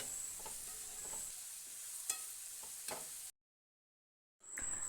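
Green chillies and curry leaves stirred and sautéed in hot oil for a Kerala-style okra curry: a soft, steady sizzle with a few light spoon scrapes, then a brief silence before the frying returns.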